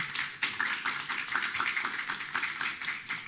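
Light, sparse clapping from a small audience at a renewable-energy webinar, a few hands patting out an uneven rhythm, fairly quiet and close, with no talking over it.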